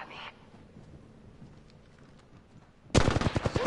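A loud burst of rapid gunfire erupts near the end in a first-person shooter game, following a brief sharp sound at the start and a quiet stretch.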